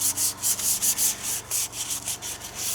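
A door mirror surface is scuffed by hand with an abrasive before lacquering, producing rhythmic back-and-forth rubbing strokes, roughly five per second, close and steady with no speech.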